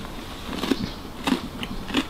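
Crunchy sesame brittle tea snack being bitten, three close, crisp cracking crunches spaced evenly apart over quiet background.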